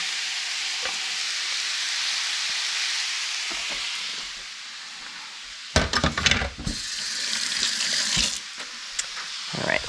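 Grated kohlrabi hashbrowns frying in a pan give a steady, moderately loud sizzle, then a stretch of busier scraping and stirring with irregular clatter near the end.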